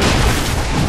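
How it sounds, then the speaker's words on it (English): A tower structure collapses under attack in a Dota 2 match, a dense, loud rumbling boom that fills the whole second with no voices. "Radiant's top tower has fallen."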